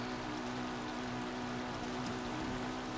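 Rain falling in Zelda Breath of the Wild, a steady, even hiss of dense rain with a low engine-like hum beneath it.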